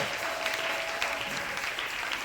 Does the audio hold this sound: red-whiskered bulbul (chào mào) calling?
no